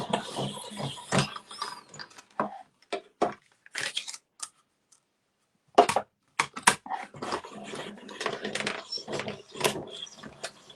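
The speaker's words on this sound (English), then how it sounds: "Bring my cut and emboss machine." Hand-cranked cut and emboss machine feeding a paper card layer through to cut out a leaf shape in a craft setting, heard as irregular ratcheting, gear-like clicks and crunches in uneven bursts with a brief pause midway, close and moderately loud.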